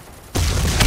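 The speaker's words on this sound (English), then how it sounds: "I killed myself with my own grenade" Sudden loud grenade blast in the blocky shooter game Ace of Spades 2, a dense boom cutting in after a moment of low background and holding to the end, with no talk.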